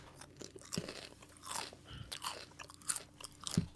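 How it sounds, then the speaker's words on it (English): Someone chews crunchy food close to the microphone, producing repeated crisp crunches and wet biting sounds in an irregular rhythm, quiet but intimate and alone without talk. "We're listening to you chewing."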